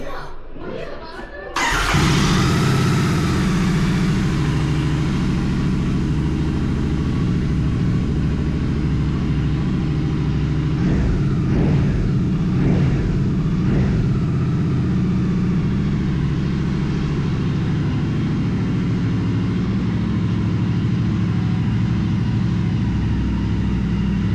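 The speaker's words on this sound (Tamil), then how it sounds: "ஸோ சவுண்டு இருக்குது எப்படி இருக்குன்னு கேட்போமா?" A Royal Enfield GT650 motorcycle fitted with Motowing exhausts on both sides fires up after a brief pause indoors, then settles into a loud, steady twin-cylinder idle with a few throttle blips in the middle.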